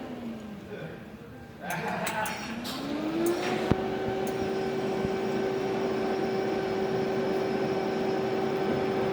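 An HVAC refrigerant recovery machine starts up and settles into a steady, droning hum that holds evenly, after some brief clicks and handling noises at the start.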